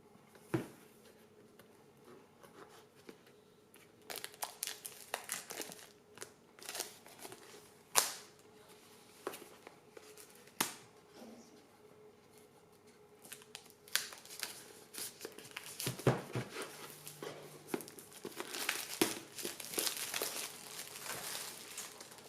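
An oracle card box set is unpacked, with quiet crinkling of packaging, card shuffling and faint snaps and taps close by, growing busier and more rustly toward the end, with no talking.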